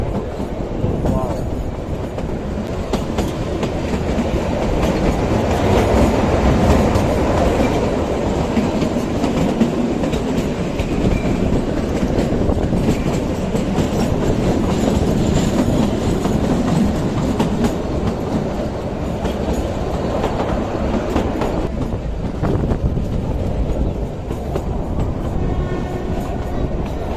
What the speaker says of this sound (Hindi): पहाड़ों के बीच से, पेड़ों के बीच से निकलती हुई ये ट्रेन